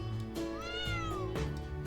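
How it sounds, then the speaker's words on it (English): A cat meows in the video game Trails of Cold Steel 4, a single rising and falling call over a soft steady background, with no talking. "Oh, it's the cat."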